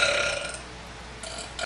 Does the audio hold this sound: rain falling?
no